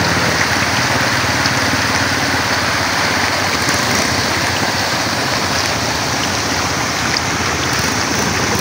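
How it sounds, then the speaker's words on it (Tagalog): Strong current of floodwater rushing past, a loud, steady broadband roar that fills the whole span without a break or pause. "Malakas ang agos, oh."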